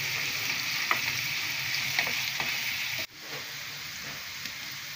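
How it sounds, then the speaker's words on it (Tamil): Ingredients for chicken podi mas fry in a pan until golden, making a steady close sizzle with faint stirring taps. The sizzle drops in level partway through and keeps going. "நல்லா வதங்கட்டும். நல்லா பொன்னிறமா வரணும்."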